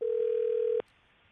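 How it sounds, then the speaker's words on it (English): A steady telephone tone sounds on a phone call, holds for most of a second and then cuts off abruptly, leaving a faint line hiss. "The phone stopped ringing"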